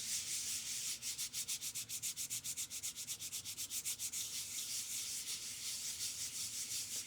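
A pre-cut foam letter printing block rubbed by hand onto paper set within a mat board, giving a rhythmic series of soft, close scrubbing strokes for several seconds before settling into a steady hiss.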